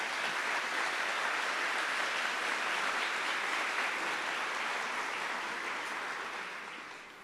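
A church congregation applauds the word of God with steady, dense clapping that holds evenly for several seconds before tapering off at the end, with no talking over it.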